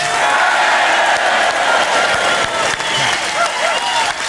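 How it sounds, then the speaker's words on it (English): A large crowd at a Brexit political rally in Surrey cheers and applauds loudly and steadily, dense clapping mixed with shouts and whoops throughout. "a massive cheer for Nigel Farage"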